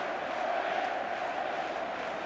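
A football stadium crowd roaring in support of Dynamo Dresden during a German cup match, a steady distant wash of massed voices with no distinct peaks.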